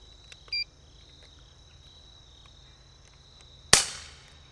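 A factory-set FX Dreamline air rifle has its trigger tested with a pull gauge: a soft tick comes first, then one sharp, loud snap with a brief ringing decay, close up in an otherwise quiet room.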